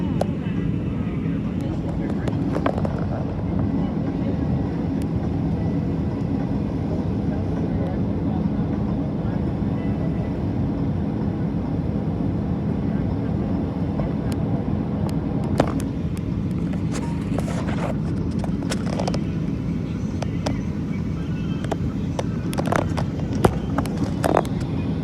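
Inside a Spirit airliner cabin, a steady low engine drone and air rumble persist throughout, with muffled voices and occasional clicks and knocks on top.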